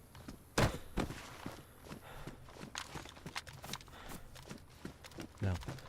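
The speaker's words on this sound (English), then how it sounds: "I was hearing more footsteps for a second." Footsteps in the DayZ video game, a series of irregular thuds and scuffs at close range with a few heavier impacts, over faint ambience.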